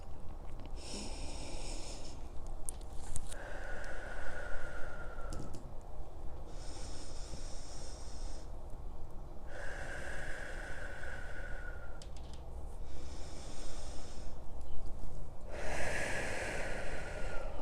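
Deep breathing during a whole-body stretching routine: several slow, loud inhales and exhales in a steady rhythm, close to the microphone, with no talking.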